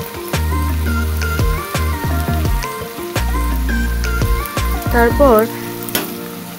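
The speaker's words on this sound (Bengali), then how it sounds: "এরপর দিব গোটা রসুন, দিয়ে আবারও একটু ভেজে নেব।" Chopped tomato and whole garlic cloves frying loudly in a hot pan of oil while making shahi chicken, a steady close sizzle with stirring scrapes, and a few spoken words over it.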